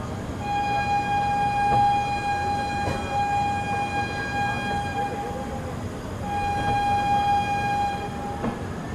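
A train horn sounds at Motichur railway station on the Ramnagar Dehradun Express, two long steady blasts with a short gap between them over low rumbling station noise.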